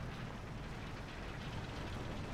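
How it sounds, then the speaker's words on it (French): A tank engine rumbling off to one side in the War Thunder game, a faint, steady low-frequency drone with no talk over it. "Là, j'entends un moteur à gauche."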